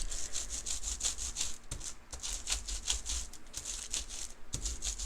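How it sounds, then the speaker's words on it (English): Wet paint being rubbed off an upside-down stencil onto an art project by hand or brayer, a steady rhythmic scraping and rubbing with repeated strokes, close and fairly quiet, without talk. "go ahead and rub all that paint off the stencil onto your project"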